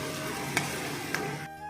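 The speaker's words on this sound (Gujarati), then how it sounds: "થોડીક વાર આને આપણે પકવશું એટલે આપણે ચટણી સરસ મજાની તેલમાં પાકી જાય" Garlic chutney cooks in hot oil for dahi tikhari, a close, dense sizzle with two sharp utensil taps against the pan before the sound cuts off abruptly.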